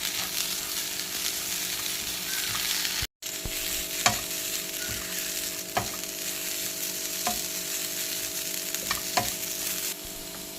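Crushed shallots and green chillies frying for a goat head stir-fry, a steady dense sizzle of hot oil with periodic scrapes and clicks of a spoon stirring the pan, close and continuous without talk.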